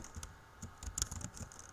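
Quiet, rapid clicking of keys on a computer keyboard during typing, irregular taps close by with no voices.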